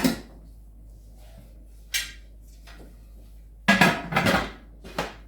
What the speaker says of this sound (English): So now I'm going to be putting the lid on.